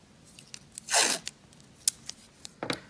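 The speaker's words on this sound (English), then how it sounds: "And you're going to tape it down." Strip of tape pulled and torn, then pressed down onto paper while fixing an overlapped sheet for a grid mural block; one broad ripping burst followed by scattered small crinkles and taps, close and quiet, with no talking.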